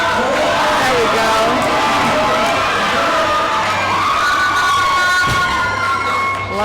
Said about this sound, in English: Love the support from the crowd.